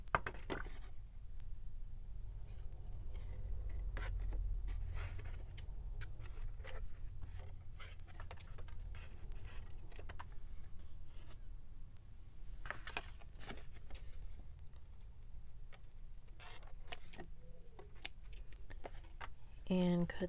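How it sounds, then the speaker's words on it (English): Scissors snip through sewn paper pieces for a mixed-media mini lapbook insert, giving short crisp cuts in irregular bursts over a low steady hum, close to the mic. "So let's go ahead and cut these apart."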